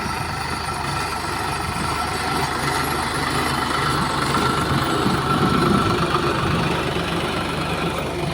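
A tractor engine idles steadily close by, a continuous low rumbling drone with a rough mechanical texture that holds throughout without pause or rev changes.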